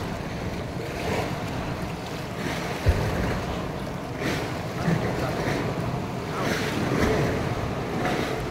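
Sea water splashing and surging around a boat near James Bond Island in Thailand, with continuous wash, wind buffeting the microphone and occasional louder splashes, close and loud.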